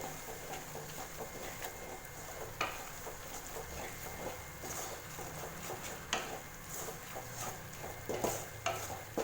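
A spoon scrapes and stirs roasted, ground masala powder in a pan for Chettinad chicken fry, with soft sizzling and irregular clinks and scrapes over a steady low hiss.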